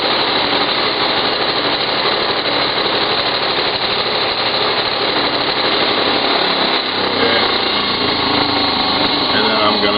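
A sander works a Lexan part for an RC rock crawler chassis, a steady loud high-pitched motor whine with grinding hiss running unbroken throughout, with a slight change in load near the end.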